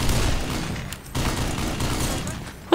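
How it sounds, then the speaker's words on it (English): Gunfire in the video game Black Mesa rattles in rapid bursts, pausing briefly before resuming, with a sharp louder shot at the end. "What am I shooting at? This is horrible."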